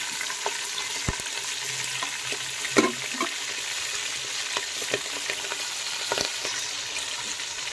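Green chillies, slit lengthwise, fry in a pan over a wood-fired stove, giving a steady close sizzle with a few sharp crackles and scraping stirs, mostly a continuous hiss without voices.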